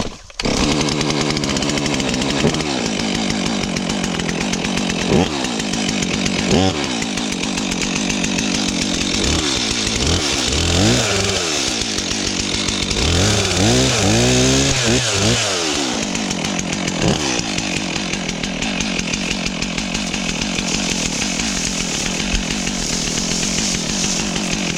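A Stihl MS362 chainsaw runs close and loud while cutting firewood, holding a steady high drone with repeated revving surges and drops in pitch as it works.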